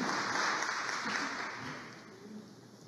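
An audience at an environmental awards ceremony in Peru applauds the Eco Guerreros winners. The clapping is moderately loud and steady from a crowd at a distance, then fades over the last second.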